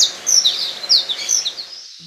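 Birds in Antioquia, Colombia chirp in quick, high, bright bursts, several overlapping calls close and loud, tapering off into near silence at the end.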